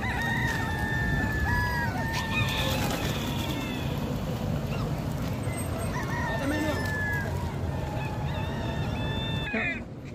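Roosters crowing amid a busy crowd of imported chickens and other birds at a Kuwait bird market, with several overlapping calls and honking or squawking over steady dense chatter and background noise.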